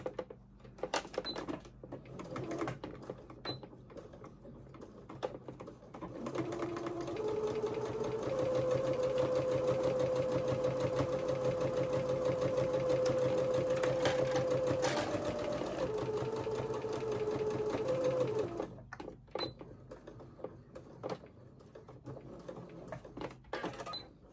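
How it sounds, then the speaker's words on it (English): A sewing machine stitches along the bottom edge of the main fabric on a lined sewing project, running in one steady, fairly close whirring burst of about ten seconds between quieter pauses and handling noises. "now I am going to sew along the main fabric bottom edge"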